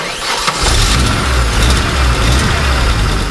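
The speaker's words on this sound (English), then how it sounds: "As soon as I started the car up, the voltage already looked a lot healthier" An Audi engine catches and settles into a steady, loud idle right after an alternator replacement, with a low rumble close by and no one talking.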